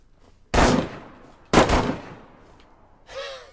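Two loud, sharp bursts of gunfire ring out from DayZ video game play, about a second apart, each with a quick decaying tail, followed by a brief fainter rattling sound.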